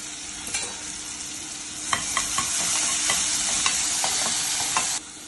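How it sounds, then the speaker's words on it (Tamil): Finely chopped small shallots hitting hot oil and frying with a loud, close, hissing sizzle, with scattered stirring clicks, before cutting off sharply near the end. "சின்ன வெங்காயம் பொடிசா வெட்டி வச்சிருக்கேன். கொஞ்சம் டேஸ்ட்டுக்காக கொஞ்சம் போடுறேன்"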